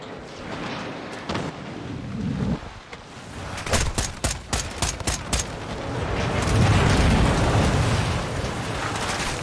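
Gunfire in the Modern Warfare 2 campaign video game, a rapid cluster of loud cracking shots in the middle, then a sustained rumbling roar of battle noise, close and dense, with no talking.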